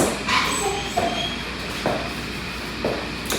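An American bulldog yips and whimpers in short, sharp bursts about once a second, close and fairly loud against a quiet indoor background.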